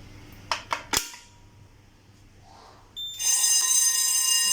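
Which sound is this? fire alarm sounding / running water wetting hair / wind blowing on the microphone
fire alarm sounding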